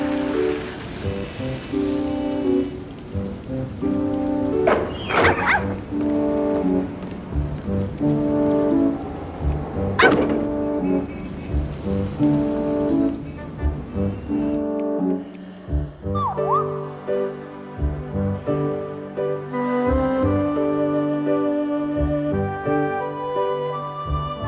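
Steady rain falls beneath a swelling orchestral cartoon score, the soft patter running continuously while the music carries over it throughout.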